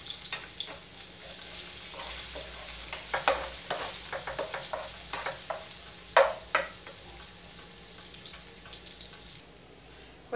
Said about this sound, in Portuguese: Tem que fritar aqui.